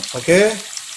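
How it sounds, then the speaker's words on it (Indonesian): Tofu and tempeh frying in hot vegetable oil give off a brief, steady sizzling hiss, partly covered by a short burst of voice. "tahu dan tempeja kita goreng"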